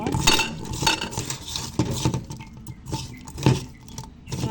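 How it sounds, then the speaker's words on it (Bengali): Wet squelching and light clinking come from a bowl as chiftin fruit bhorta mash is worked by hand with spices, in irregular pats and scrapes, close and moderately loud. "এবার আমি হাতের সাথে মাখিয়ে নেব"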